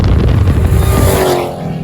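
A supercharged car exhaust roars while driving, recorded out the window, loud and close but heavily buffeted by rushing wind noise that masks much of the engine tone.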